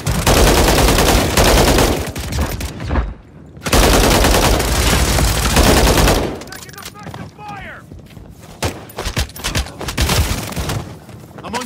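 Dense automatic gunfire and explosive booms fill a Call of Duty: Modern Warfare zombies match, loud and continuous for several seconds, then a scattered exchange of shots continues under game chatter and callouts.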